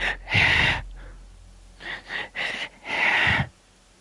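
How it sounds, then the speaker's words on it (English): Heavy, raspy monster breathing from a Regenerator creature in the video game Resident Evil 4, in several loud breathy pulses with short gaps between them, heard alone with no talk. "in the original, the Regenerators are still scary because they're breathing."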